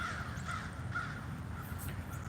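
Crows cawing on a morning, a run of harsh repeated calls at moderate distance over a steady low background rumble, with no voices.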